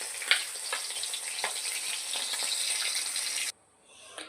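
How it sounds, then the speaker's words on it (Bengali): Snakehead fish frying in hot oil crackle with a steady sizzle and a few sharp pops as pieces are lifted out, then the sound cuts off abruptly to near silence with a faint clink. "মাছগুলো এবার তেলের থেকে একে একে উঠিয়ে নেব।"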